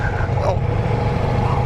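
Ducati Diavel V4 motorcycle riding at speed, a steady loud low engine drone blended with heavy wind rush throughout, continuous and close.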